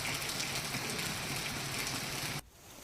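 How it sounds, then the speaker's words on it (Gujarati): Heavy monsoon rain pours down in Jafarabad town, Amreli, as a dense, even hiss of falling water that cuts off abruptly near the end. "જાફરાબાદ શહેરમાં ધોધમાર વરસાદ જોવા મળ્યો"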